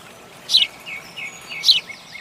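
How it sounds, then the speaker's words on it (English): House sparrow gives two sharp, bright chirps about a second apart, with softer twitters between them, fairly close against a quiet background and no talk. "Here comes my little friend Sona, the house sparrow."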